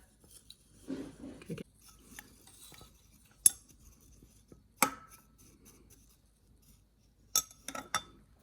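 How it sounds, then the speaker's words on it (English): Light clinks and scrapes of a utensil stirring and poking a reaction mixture in a container during a chemistry test of temperature change, a few sharp taps spaced out over near silence. "Let's stir it up a little bit."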